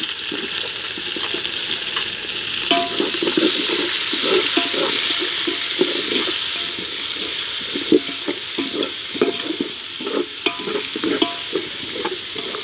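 Thinly sliced onions frying in hot oil with whole spices, a loud continuous sizzle broken by repeated rhythmic scraping and stirring strokes of a spatula against the pan, close up with no speech.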